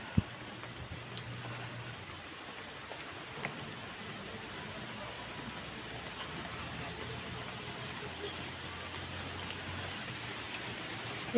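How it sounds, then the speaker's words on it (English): Steady rain falls on an outdoor walk on an island, a continuous soft hiss with scattered drop taps, even and fairly faint throughout without talk. "It's rainy."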